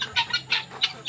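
Backyard free-range chickens and chicks cluck and peep in a quick run of about five short, bright calls, close by and fairly soft.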